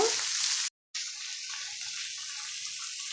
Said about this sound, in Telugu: కొద్దిసేపు ఉల్లిపాయ ముక్కల్ని వేయించుకున్నాము